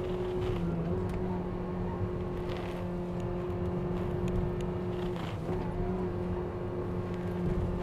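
A 2021 Mitsubishi Xpander MPV engine holds a steady high-rev drone in second gear at around 90 km/h on a mountain test drive, with a brief dip and recovery midway and road and wind noise beneath.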